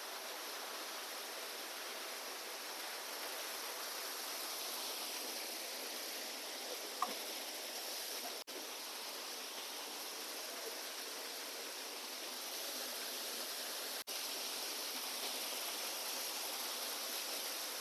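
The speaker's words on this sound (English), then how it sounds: "So we have reached this mini waterfall." A small mountain waterfall in Jibhi, Himachal, rushes steadily and close by, a dense unbroken wash of falling water with no talk over it.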